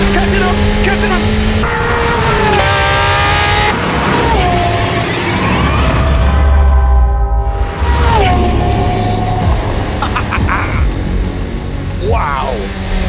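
A 2025 Corvette ZR1 engine roars loudly in a drag race against a Lamborghini, with rising and falling tones as it revs through gears and upshifts, under excited talk.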